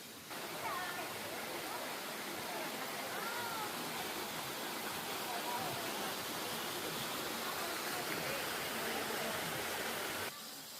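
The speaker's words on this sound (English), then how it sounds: "let me show y'all the waterfall and all the people that are here." A waterfall roars with a constant, broad hiss of falling water on a hiking trail, steady and enveloping for the whole stretch with no clear voices.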